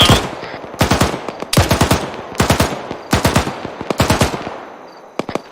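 Bursts of rapid automatic gunfire in an urban firefight come in five or six clustered volleys, each a quick string of sharp cracks. They are loud and close, with short pauses between them and a final few isolated shots.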